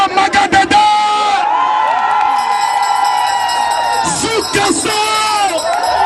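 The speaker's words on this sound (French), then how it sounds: "Je voudrais qu'on acclame très fort Magadeda" Loud crowd cheering and whooping at a political rally meeting, a dense sustained roar with shouts rising over it, swelling again toward the end.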